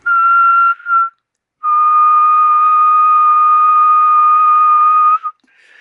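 A loud, pure whistled tone into the microphone of an SEA 235 HF SSB marine radio: one short note, a brief second one, then a long sustained note held steady for several seconds.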